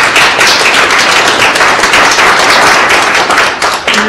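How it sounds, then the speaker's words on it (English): Audience applause at a leadership council meeting, a dense sustained wash of many hands clapping, loud and close throughout with no voices over it. "So I'd like to give them a huge round of applause for everything."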